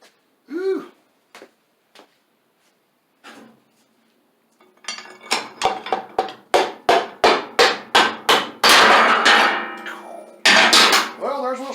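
Hammer blows on a piston being driven out of a Kohler Command 20 hp engine during a teardown, a fast run of about a dozen loud, ringing metallic strikes after a few quieter knocks and a short vocal sound.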